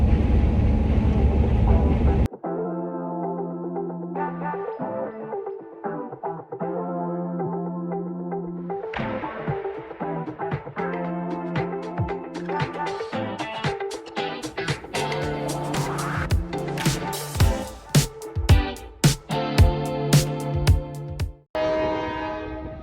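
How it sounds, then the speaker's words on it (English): A train rumbles past close by, its horn sounding in long sustained blasts over rhythmic clatter and squealing wheels, growing louder before abruptly cutting off. "with the sound of the train going by"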